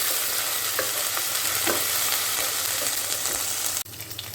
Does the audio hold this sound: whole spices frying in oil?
yes